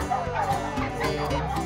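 Dogs bark and yip excitedly inside a dog walker's minibus in Alaska, several close, loud barks in quick succession filling a short burst.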